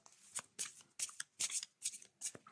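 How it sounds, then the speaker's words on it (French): Tarot cards being shuffled by hand, six or seven quick riffling bursts in a steady rhythm, close and soft, with no talk over them. "je sais pas pourquoi je mélange"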